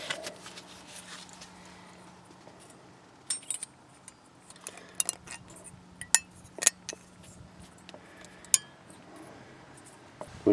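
Metal brake pad slides are fitted on a Hyundai Santa Fe Sport during a front brake job, giving sparse, sharp clinks and light metallic taps over a low steady hum, close and fairly quiet.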